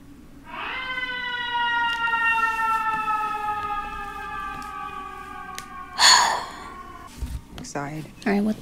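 An ambulance siren in the video game The Dark Pictures: The Devil in Me wails with long sweeping tones for several seconds, then cuts off into a burst of noise and brief voices.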